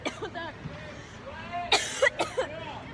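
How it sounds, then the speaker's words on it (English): Several people coughing and clearing their throats in short bursts from red tide algae irritation, nearby and moderately loud, with low chatter between coughs. "everyone keeps coughing because of this"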